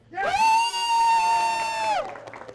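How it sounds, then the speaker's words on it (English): One loud, sustained, high-pitched whoop rises, holds steady for almost two seconds, then drops away. It comes from a diner cheering on a 4.5-pound food challenge at the Big Texas Steak Ranch on Route 66, with faint noise from the room after it. "Let's cheer them on,"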